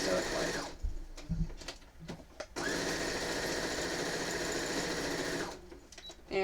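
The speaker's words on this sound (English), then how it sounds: "fold that over, and sew it closed" A sewing machine stitching a quilt binding closed, running in a long steady whir that pauses and restarts with a few clicks and thumps in between, close and loud.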